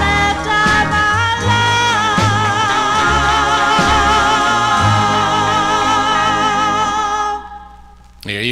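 A 1959 doo-wop group harmony 45, "A Teardrop and a Lollipop" by the Charells on the Scepter label, plays loud and steady with layered vocals and backing, then fades briefly near the end.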